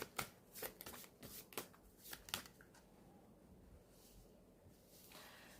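Tarot cards shuffled and drawn, a run of soft riffling flicks and slaps in quick irregular bursts that thin out into quieter handling, close but faint, with no voice.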